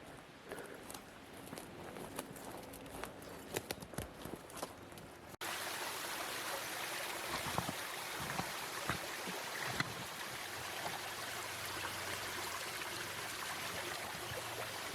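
Steady broadband rush of creek water flowing in a slide zone, continuous and fairly close, following several seconds of scattered footsteps and rustling on the bank.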